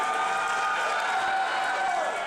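A wrestling crowd at an International Wrestling Federation event roars steadily and loudly throughout, a dense sustained wall of cheering with no pauses.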